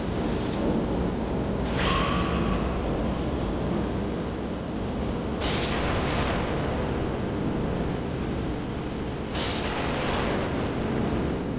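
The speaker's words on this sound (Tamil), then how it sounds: "மழை வரப்போது, போங்க அத்தை." Thunder rolls heavily over a steady wash of rain, three long booming swells each starting with a sharp crack, loud and close with no voices.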